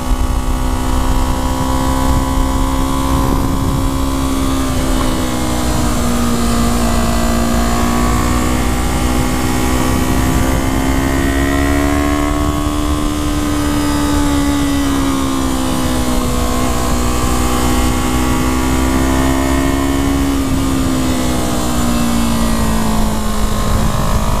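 A modded 2015 Yamaha R3 motorcycle engine is heard while riding. A loud, close, steady drone rises and falls in pitch as the revs shift, running without a break and with no talk over it.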